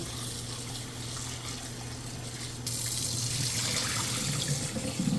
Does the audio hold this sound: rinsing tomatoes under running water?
yes